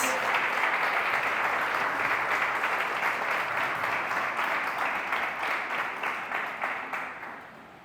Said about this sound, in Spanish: te voy a invitar a que le demos un aplauso a los hermanos que pasaron por las aguas del bautismo